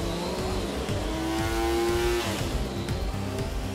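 An MV Agusta three-cylinder motorcycle engine runs on a dyno in a development test room, holding a loud, steady drone that swells slightly as it revs, with no voices.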